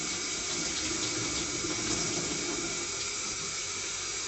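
Tap water runs steadily for a few seconds, rinsing developed black-and-white film (HP5+ developed in Rodinal) in place of a stop bath; a constant close hiss of flowing water with no speech.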